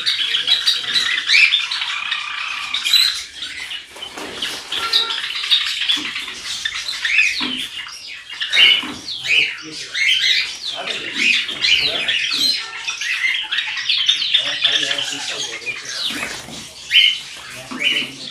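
Many Java sparrows in a cage chirp and squawk busily close by, bursts of high twittering overlapping with light rustling and fluttering.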